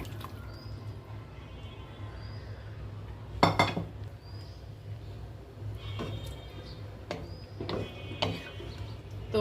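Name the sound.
fish curry being poured into a bigger pan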